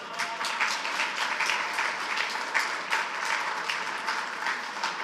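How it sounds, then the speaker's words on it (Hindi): Audience applause at a ghazal recital, many hands clapping in a dense, steady burst that fills the room and runs without pause or speech. "अगर आप भरपूर तालियां"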